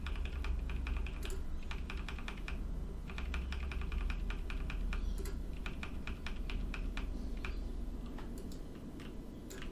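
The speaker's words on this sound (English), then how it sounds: "Maybe I should use a keyboard." Someone types on a computer keyboard while playing World of Warcraft. The keystrokes come in quick irregular bursts of soft clicks, close and steady throughout, with no talking.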